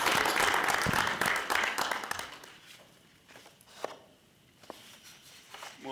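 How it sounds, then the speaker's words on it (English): Residents at a city council meeting receive a round of applause that starts full and steady, then fades after about two seconds into a few scattered claps and quiet room noise. "Let's give them a round of applause."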